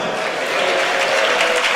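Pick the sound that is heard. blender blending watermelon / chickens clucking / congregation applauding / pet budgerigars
congregation applauding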